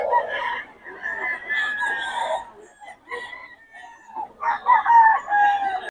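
A Boston Sweater gamecock crows at a busy poultry market, two drawn-out crows with clucking and other birds around them, and voices faintly in the background.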